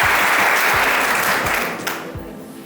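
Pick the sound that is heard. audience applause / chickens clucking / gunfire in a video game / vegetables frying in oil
audience applause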